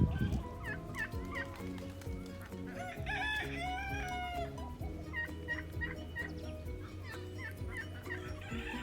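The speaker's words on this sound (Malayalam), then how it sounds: "നാട്ടിൽ അതേപോലെയുള്ള പൂവൻകോഴിയൊക്കെ അല്ലേ ഇത്." Rooster crowing at Al Suhaa Reserve Park in Al Khor, with turkeys gobbling and hens clucking. Several loud, close calls overlap in a busy poultry chorus, with no talk.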